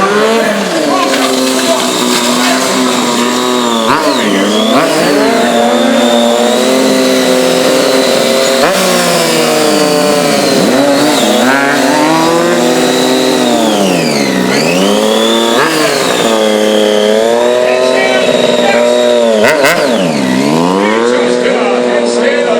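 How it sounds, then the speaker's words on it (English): A 300-pound Triumph Street Triple engine revs hard throughout stunt riding with wheelies, loud and close, its pitch swooping up and down continuously. "Look at the position that Rosa's body's in as he tries to swing that 300-pound motorcycle towards Eta."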